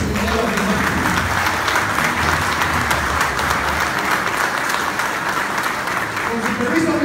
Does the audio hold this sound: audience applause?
yes